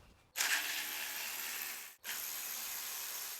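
Ratchet turning 10mm valve cover bolts on a 2002-2011 Toyota Camry engine; two close bursts of rapid, rasping clicks, the first longer, separated by a brief pause, no talk.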